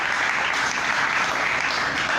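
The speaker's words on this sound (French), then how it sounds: "Applaudissons notre Dieu." Church congregation at a French-language service claps together in a dense, steady wash of applause that lasts throughout, close and fairly loud, with no voices standing out.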